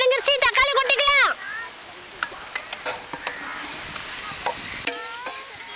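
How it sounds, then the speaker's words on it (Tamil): A voice talks briefly, then onions and tomatoes sizzle in a pan for a Tamil crab thokku, a soft constant frying hiss broken by sharp spoon-and-pan clicks as they are stirred. "வெங்காயம் வதங்கிருச்சு, தக்காளி கொட்டிக்கலாம்"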